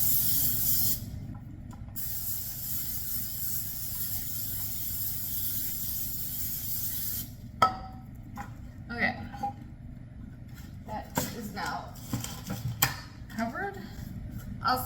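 Vegetable oil sprayed from a can over the sides of a bucket, a steady loud hiss running for several seconds, then broken bursts mixed with handling noise and talk.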